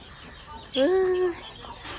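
A single drawn-out hen cluck, close and fairly loud, rising then holding steady before fading back into quiet background noise.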